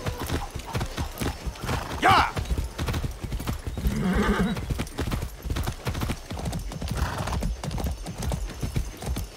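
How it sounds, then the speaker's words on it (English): A horse in the video game Far Cry 6 trots with steady, close clip-clop hooves and gives a couple of loud whinnies, while someone talks and exclaims over the hoofbeats. "That's a good horse"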